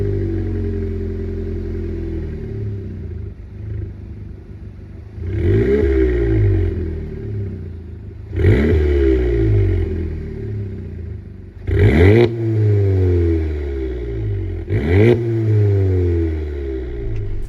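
A Volkswagen Jetta GLI's 2.0-liter turbocharged four-cylinder engine idles close by, then revs hard in four separate bursts that climb and fall back to idle.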